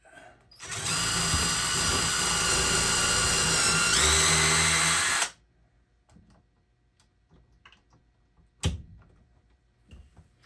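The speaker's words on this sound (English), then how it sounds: "I'm going to drill myself 3 holes to get started up here with it." A power drill whirs loudly and continuously for several seconds, its pitch shifting slightly as it bites in, then stops, leaving scattered light clicks and a sharp knock.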